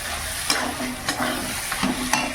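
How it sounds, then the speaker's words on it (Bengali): Large-cut tomatoes dropped into meat masala frying in oil, a continuous sizzle broken by several sharp stirring scrapes and clacks at a steady pace, close up with no talk. "বন্ধুরা এবার টমেটোগুলো দিয়ে দেবো আমি বড় বড় করেই কেটে নিয়েছি"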